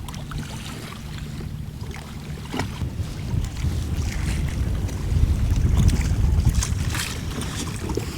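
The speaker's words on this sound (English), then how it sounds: "the motor will adjust, speed up and slow down to compensate for the wind influence" Wind rushes over a fishing kayak on open freshwater while its trolling motor runs, making a steady, gusting roar with low rumbling that swells toward the middle and stays close to the microphone.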